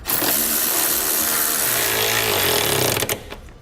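A power tool drives a 13mm socket, snugging bolts into U-nuts while Westin E-Series round nerf bars are mounted on a 2016 Chevrolet Colorado, a loud steady rattling buzz lasting about three seconds before it stops abruptly.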